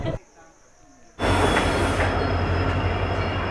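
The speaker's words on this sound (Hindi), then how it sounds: "ट्रेन हमने पकड़ लिया जी" A train at New Missamari station roars in suddenly after a quieter start, loud rumbling and wheel squeal filling the rest close by.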